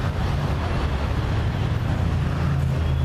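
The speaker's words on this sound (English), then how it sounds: "you can hear the traffic in the background" Continuous low rumble of city traffic in the Plaka area of Athens, engines droning steadily nearby with no talking.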